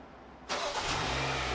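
A 2015 Hyundai Sonata engine cranks and catches after a remote-starter command, jumping abruptly from quiet to a steady close idle that settles in.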